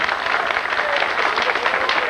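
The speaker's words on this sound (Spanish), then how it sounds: "Fuerte los aplausos de bienvenida para ellos." A live audience at a music venue gives a warm welcoming round of applause for a performing duo, dense steady clapping throughout, loud and close, with a voice briefly audible underneath.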